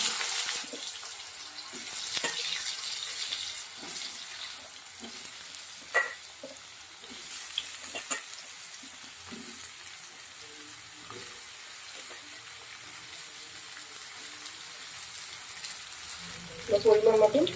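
Sliced potato, eggplant and ridge gourd sizzle steadily in hot oil in a pan for a Bengali fish curry, with soft clinks of a spatula stirring through the low, even frying hiss.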